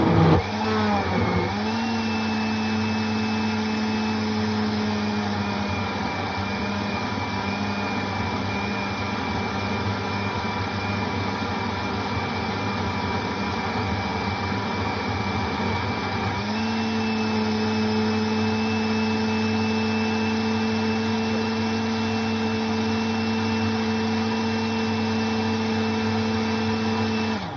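A kitchen blender runs continuously while making a smoothie, a loud, steady whirring drone that shifts pitch partway through as the load changes, with no talking over it.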